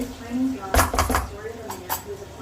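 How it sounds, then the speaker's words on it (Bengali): Beef cooked with chui jhal is stirred in a pan, a few sharp metallic scrapes and clinks of utensil on cookware, close and moderately loud. "চুই ঝালটা দিয়ে আর একটু নাড়িয়ে চাড়িয়ে ভালো মতো মিশিয়ে"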